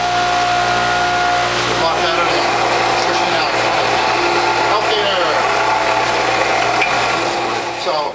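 A juicer grinds broccoli greens, collard greens and celery with a loud, steady whirring drone that runs unbroken from start to finish.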